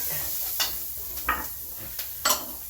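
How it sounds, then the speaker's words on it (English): Peppers sautéing in a pan for a chicken provolone dish: a low, steady sizzle with a few sharp clinks and stirring knocks against the pan, fairly close and without talk. "we're going to go in with the peppers. We're going to saute this for about 30 seconds"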